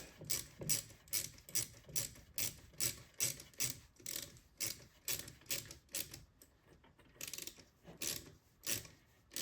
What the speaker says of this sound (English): lift up your Jubilee just enough that you're going to be squeezing the line, and again just tighten that up